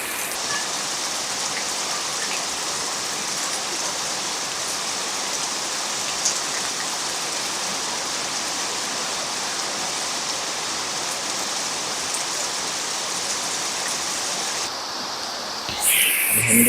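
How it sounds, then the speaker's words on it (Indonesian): Steady midday rain falls around Sungguminasa town, a dense, even hiss of drops on surfaces that holds constant and loud, with a brief shift in texture near the end. "Alhamdulillah dengan turunnya hujan, dan tak lupa kita senantiasa berdoa semoga hujan yang turun membawa berkah bagi semua."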